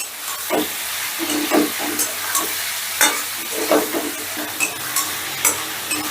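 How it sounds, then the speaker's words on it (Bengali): Spices, including Kashmiri chilli powder and a pinch of sugar, are stirred together in a hot pan for egg chilli: a soft sizzle under repeated close scraping strokes, irregular but frequent, with no voices. "এবারে সমস্তটা আবারও একটু মিশিয়ে নিচ্ছি"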